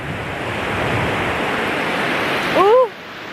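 Steady, close surf roars from waves washing onto a cold beach on the Isle of Lewis, with wind noise and a brief bird-like call near the end.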